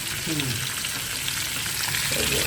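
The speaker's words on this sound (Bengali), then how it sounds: "এটা হচ্ছে চিকেনগুলো এইভাবে ফ্রাই করতেছে স্পাইসি দিয়ে" Chicken pieces frying with spices, a dense, steady close sizzle running unbroken with faint stirring and a brief murmur of a voice underneath.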